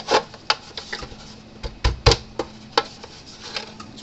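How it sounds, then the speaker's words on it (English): Plastic case of a Gallagher Ranch King fence charger being handled and its lid pressed shut: a series of sharp, close clicks and knocks, irregular in rhythm, with two heavier thumps near the middle. "See how that light bulb looks when we close the lid on it."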